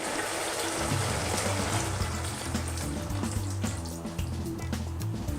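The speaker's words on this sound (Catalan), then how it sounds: "aleshores hi afegim el brou" Broth poured into a cooking pot of Olot-style potatoes with meat, a steady liquid rush and sizzle running continuously throughout.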